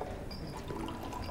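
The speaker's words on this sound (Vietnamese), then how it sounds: "Nè, rót đầy luôn đi." Welcome wine poured into a glass, a soft continuous trickling pour heard fairly faintly and close for just over a second, with no talking.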